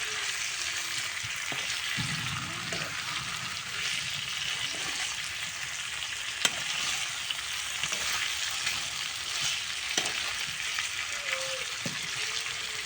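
Meat and onion sizzle steadily in a pan over a clay stove, with occasional stirring scrapes over a continuous bright fry.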